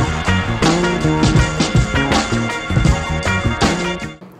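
Recorded drum beat with a kick run through an effects chain, a punchy, rhythmic loop of heavy thumps and layered hits playing loud and upfront before cutting off.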